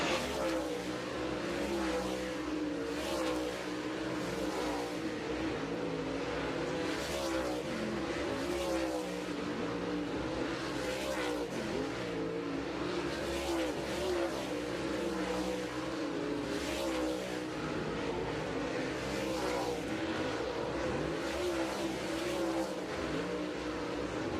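Dirt late model race cars in the Lucas Oil Late Model Dirt Series at Brownstown Speedway, a continuous dense roar of many engines revving and surging for the whole stretch, with faint crowd or announcer sound beneath.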